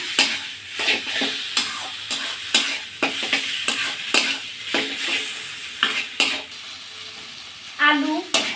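Boiled banana flower with turmeric sautéing in a pan: brisk, rhythmic spatula strokes scrape and clack over a close, steady sizzle, and a brief voice is heard near the end.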